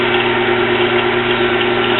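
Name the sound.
ENCO lathe motor running after restart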